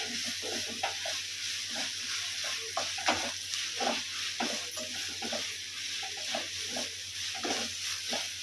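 Onions and crushed green chillies frying in a pan, a soft continuous sizzle broken by repeated scraping stirs at a loose, irregular rhythm.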